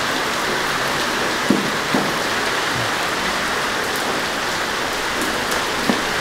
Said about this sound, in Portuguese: E a chuva aumentou agora.